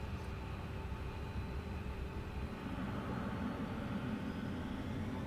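Engines of a Citation jet drone steadily during the takeoff roll on runway 9, a broad, continuous rumble heard from inside the cabin without speech.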